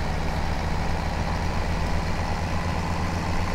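Tractor engine running steadily in Farming Simulator 17, the machine in broken-down condition, giving a continuous low, droning rumble at close range with no talking over it.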